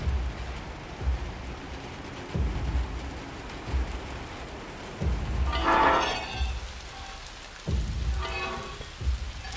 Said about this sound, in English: Oh my god, never been in a train accident before.